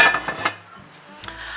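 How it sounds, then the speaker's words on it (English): Metal lid set onto a cooking pan of chicken curry: a few clanking metallic knocks and rattles at the start, a quiet pause, then a sharp clink near the end, close up with no talking. "actually put the lid on"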